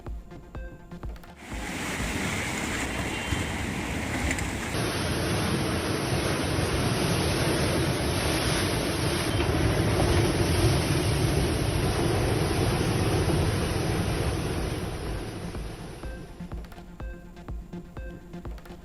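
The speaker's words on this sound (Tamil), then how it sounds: "ராட்சத குடிநீர் குழாயில் உடைப்பு ஏற்பட்டு ஆர்ப்பரித்து பொங்கி எழுந்த தண்ணீர்" Water gushes and roars from a burst giant drinking-water pipe, a steady loud rushing wash of noise that holds for about fifteen seconds before easing off.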